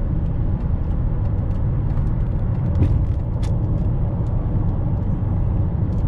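A Cadillac Deville with a Northstar engine that is overheating, heard from inside as it drives, with a steady loud road and engine rumble and a few faint ticks and squeaks.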